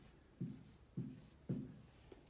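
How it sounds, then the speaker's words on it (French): A pen or pencil writes a number on paper in three short, evenly spaced strokes, soft and close in a quiet room. "j'écris mon nombre"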